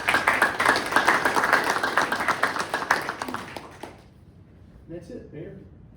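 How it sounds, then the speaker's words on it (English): A small group claps in a council meeting room with a quick, fairly sparse rhythm for about four seconds before it dies away. A voice then follows in the quiet room. "I think we all deserve a good applause for them."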